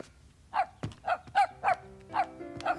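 A small dog barks indoors in a kitchen, about seven sharp, evenly spaced yaps in quick succession, fairly close, with no talk over them.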